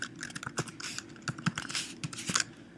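Typing a server IP address on a computer keyboard, a quick irregular run of close, crisp key clicks over about three seconds with no talking.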